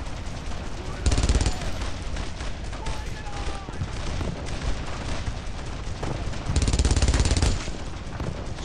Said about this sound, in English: Attack that MG-42! Get that gunner fast!